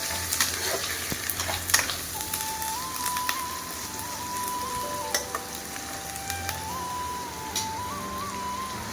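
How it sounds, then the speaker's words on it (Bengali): Garlic and ginger paste frying in oil for a Bengali chicken curry with potatoes: a dense, continuous sizzle with scattered pops and occasional stirring scrapes, plus a faint thin tone running underneath. "রসুনটা একটু কষিয়ে নিয়ে তারপরে দিয়ে দেবো আদা। এবার দিয়ে দেবো আদা বাটা।"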